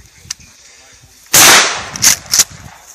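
A single sharp, loud gunshot from a long gun cracks out close by, followed by two shorter, fainter bangs or echoes, with quiet outdoor background before it.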